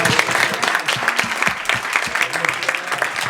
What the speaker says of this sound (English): Great applause to Andrea